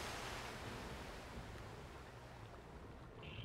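Water rising in a flooded chamber in The Legend of Zelda: Breath of the Wild, heard as a steady, broad rushing wash that holds at an even level throughout with no talking.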